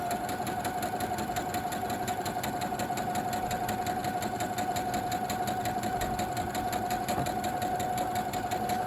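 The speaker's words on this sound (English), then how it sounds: "So we'll sew a little bit, and we're gonna do a back stitch" A sewing machine stitches a fabric face mask with a steady, rapid mechanical whir and rhythmic needle clatter running continuously at close range.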